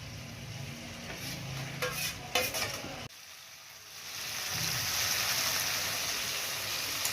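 Prawns hitting a pan of cooked-down spice masala with turmeric and salt, a stirring scrape and clatter at first, then a brief lull before a loud, broad sizzle rises and holds steady to the end.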